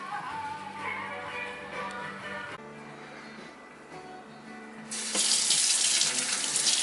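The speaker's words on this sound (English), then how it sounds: "Wash your hands." Water from a kitchen tap runs steadily into a sink during handwashing, softer at first, then surging into a louder, brighter gush for the last couple of seconds; no talking.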